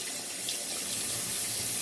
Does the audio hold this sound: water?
yes